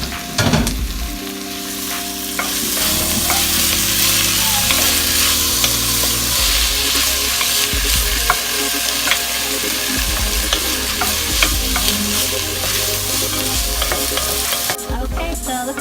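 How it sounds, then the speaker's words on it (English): Chopped onion sautés in a pot for a creamy chicken tortellini soup, a loud, steady sizzle broken by repeated scraping stirs, with no talking. "1 chopped onion. I'm gonna let that saute until it's softened."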